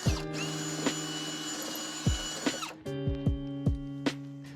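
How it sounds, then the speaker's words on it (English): A power drill fitted with a 9/32 bit bores a hole in the bottom of a Toyota Tacoma fender liner, a steady close whine broken near the middle, then restarting with several short clunks as the bit catches. "we're gonna grab the drill with the 9/32 drill bit. I'm gonna drill out a hole in the bottom portion here"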